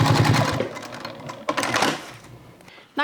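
A sewing machine stitches a fabric toiletry bag in a close, clattering run with uneven rhythm that tapers off, ending in a sharp click.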